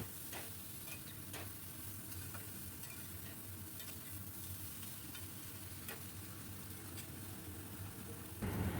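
Cut eggplant sizzling and frying with mixed vegetables and shrimp in a pan, a steady dense crackle with occasional sharp ticks and stirring, no voices.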